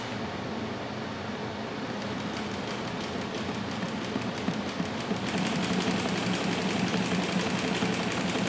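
An Adler Model 67 sewing machine stitches steadily along a seam, a close, continuous mechanical rattle and hum with rapid regular needle clatter that grows slightly louder and faster partway through, with no one talking.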